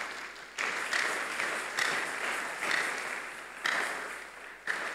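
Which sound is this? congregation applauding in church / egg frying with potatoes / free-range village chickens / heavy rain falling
congregation applauding in church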